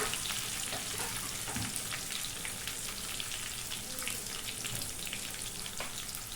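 Curry leaves, chillies and mustard seeds frying in oil for a banana flower stir-fry, a soft, steady crackling sizzle with scattered pops and light stirring, no talk.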